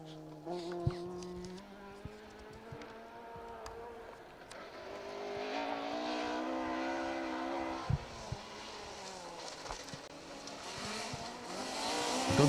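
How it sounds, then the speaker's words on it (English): A 2-litre Mark II Escort rally car runs a forest rally stage, its engine note rising as it approaches and revving hard through gear changes, growing louder before passing close amid faint outdoor background. "you see John Crawford and Hannah McKillop through in their 2 litre Mark II Escort."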